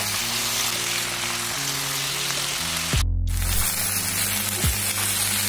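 Mixed vegetables frying with ginger paste for Bengali shukto give a dense, steady sizzle under soft background music, with a short break and a low thump near the middle.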